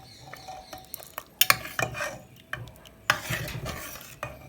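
A spoon stirs cooked dal with peas in a pot, giving irregular scraping and clinking strokes against the metal with soft wet squelches between them, close and fairly quiet.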